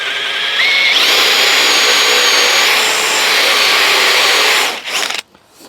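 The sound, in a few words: Forstner bit drilling handrail stock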